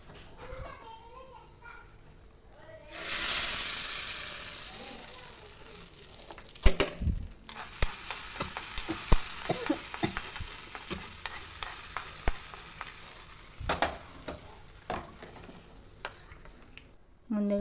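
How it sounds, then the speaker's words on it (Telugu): Tempering (popu) for a chutney hits hot oil in a home kitchen with a sudden loud sizzle, then settles into steady frying hiss punctuated by sharp crackles, pops and utensil clatter. "దానికి పోపు పెట్టాలి."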